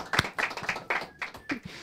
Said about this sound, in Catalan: Un altre aplaudiment.